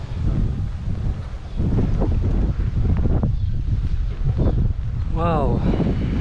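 Steady broadband mountain wind rushes and buffets throughout, with voices talking over it and a brief bird-like chirping trill near the end.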